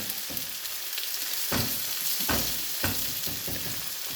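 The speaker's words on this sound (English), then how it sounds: "So I'm just going to use my little tomatoes up and squash them in." Small tomatoes squashed into a hot sizzling pan for a chunky sauce to go on pizza fritta, with a steady loud frying hiss and several soft squelching presses and spatula knocks at an uneven rhythm.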